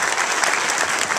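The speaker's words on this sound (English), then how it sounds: "a round of applause for Chris and this great group that he did this with" A theater audience at a film Q&A claps briskly for a filmmaker and his group, a loud, dense and even burst of applause close at hand.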